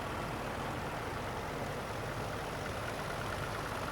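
A vintage David Brown tractor at a show runs with a steady, continuous engine rumble, a broad even drone that stays at constant loudness with no talking over it.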